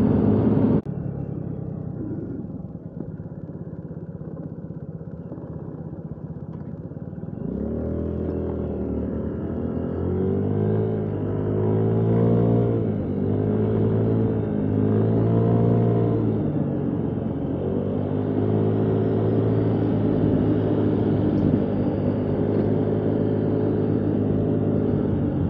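Honda Ruckus scooters ride through a road construction zone, their small engines droning and rising in pitch as they accelerate, a steady close rumble with no talk.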